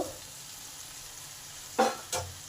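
Okra is added to a pan of half-softened tomatoes, a low, faint sizzle broken by two sharp stirring scrapes and clatters near the end.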